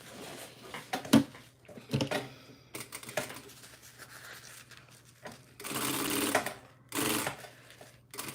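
A sewing machine stitches a tote bag in short separate bursts of rapid mechanical whirring, broken by pauses and light handling clicks, fairly quiet and nearby.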